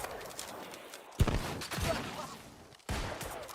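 Gunshots in New World: Aeternum, two sharp, loud blasts about a second and a half apart, each leaving a short rumbling tail, with softer game ambience between them.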